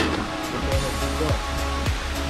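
Hatcher Waterfalls in St Vincent roars steadily and loudly, a broad continuous wash of rushing water, with a few low thumps underneath.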